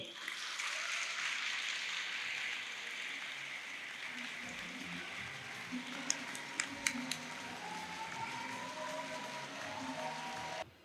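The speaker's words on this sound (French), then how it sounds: "un maximum d'applaudissements pour cher Bassirou Sow" Faint applause from the audience greeting Bassirou Sow at an oratory contest final, a distant wash of clapping that holds steady with a few sharp clicks partway through.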